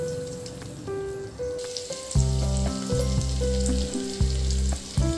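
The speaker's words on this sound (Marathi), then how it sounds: "थोडंसं तेल गरम झालं की मग आलं टाकायचं आहे" Chopped ginger sizzles in a spoonful of hot oil in a pan while filling for veg frankie rolls is cooked. A steady close frying hiss runs throughout and grows louder after a couple of seconds, with occasional stirring clinks and no talk.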